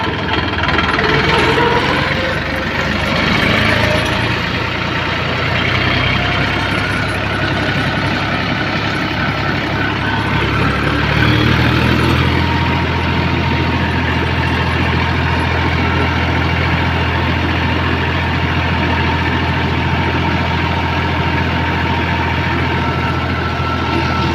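A heavy tractor engine drones steadily as it drives along a highway, loud and close, with a continuous low rumble throughout.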